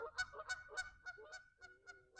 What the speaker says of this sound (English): the ducks decided to start honking and stuff like that, or quacking